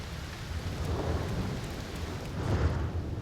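A thunderstorm with steady rain pours down in the background of an indoor pottery-making session, a continuous broadband hiss with low thunder rumbles swelling midway and again toward the end, no voices.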